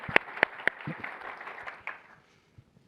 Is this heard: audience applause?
yes